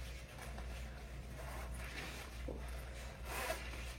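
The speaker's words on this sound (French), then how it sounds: "c'est une fermeture éclair à double curseur" A double-slider zipper on a jacket is pulled open, a faint, close ratcheting rasp in short strokes over a quiet low room hum.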